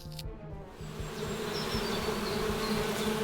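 A swarm of bees buzzing in the video game The Hand of Glory, a steady dense drone that swells slightly louder and stays close, alone with no talk.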